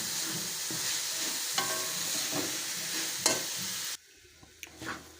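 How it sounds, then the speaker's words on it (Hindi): Boiled mash dal is stirred and fried in masala in a hot pan, a continuous close sizzle with scraping spoon strokes, then a sudden drop to quieter sizzling near the end. "दाल को हम अच्छी तरह भून लेंगे। मसाला जो है अच्छी तरह इसमें मिक्स कर लेंगे।"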